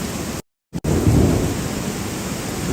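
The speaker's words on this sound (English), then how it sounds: "Now we hear the thunder and lightning." A loud rumble of thunder rolls through heavy, steady rainfall in Athens, Greece, broken by a brief dropout before the downpour and rumbling continue.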